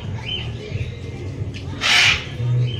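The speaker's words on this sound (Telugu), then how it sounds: "ఓ, ప్యారెట్ అయితే ఇక్కడ సౌండ్ వేస్తూ ఉంది, మీరు చూసుకోవచ్చు." A parrot at an exhibition of animals and birds lets out one loud, harsh squawk close by, over low background murmur and faint voices.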